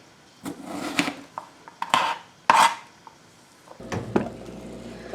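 Potatoes being cut into small cubes Potatoes O'Brien style on a cutting board, with several separate knife chops and knocks spaced irregularly, fairly close and clear, and no talking.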